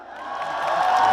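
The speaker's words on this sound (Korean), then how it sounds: "큰 박수와 함성을 보내주시면 되겠습니다" Concert crowd at an outdoor pottery festival in Yeoju cheers and claps for a trot singer, a rising swell of applause and shouts that grows louder and fuller over about a second.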